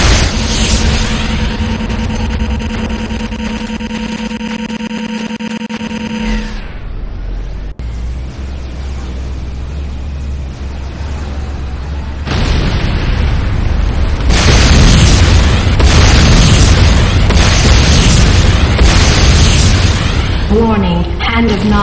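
A base explodes under attack in Command & Conquer: Renegade, with loud rumbling booms and crashing blasts that build in the second half, following a steady electronic tone and hum.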